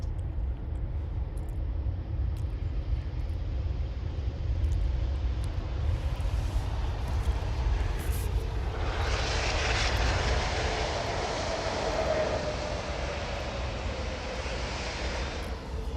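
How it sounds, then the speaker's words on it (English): An Airbus A380 airliner's engines roar in a steady, broad rumble from a distance, the sound swelling a little stronger partway through and holding with no voices. "I can hear it. I can hear the 380."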